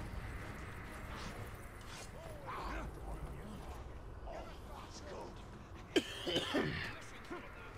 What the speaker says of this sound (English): Again, I apologize for all my coughing.